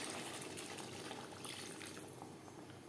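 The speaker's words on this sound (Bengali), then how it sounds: "এবার দিয়ে দেব জল।" Water pouring into a pan of Bengali tilapia fish curry, a steady broadband rush and splash that runs continuously for the whole moment, fairly close and even in level.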